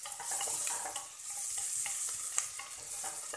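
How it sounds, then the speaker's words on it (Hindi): Red chili and onion frying in hot oil, a steady close sizzle with light stirring scrapes throughout, no voices. "प्याज को भी हल्का ब्राउन होने तक हम फ्राई कर लेंगे।"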